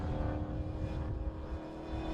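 A Monty Power MGB GT V8 race car climbs the hill at Calder Park under a steady, loud, rumbling engine note that holds without pauses throughout.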